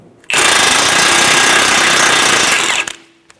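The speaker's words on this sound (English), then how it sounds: "Using an 18mm socket, remove the nut for the outer tie rod." An impact or power tool spins off the outer tie rod nut with an 18mm socket on a Chevrolet Sonic front steering rack; a loud, steady buzzing whir runs for about two and a half seconds, then stops abruptly.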